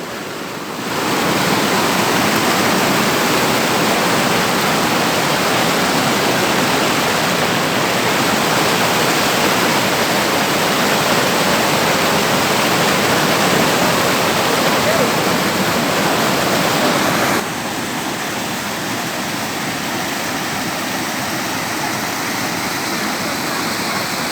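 Rushing water of the Sherpe-Napne waterfall in Vaibhavwadi, Sindhudurg, heard from above the falls: a loud, constant close roar that drops slightly in level near the end, with no one speaking.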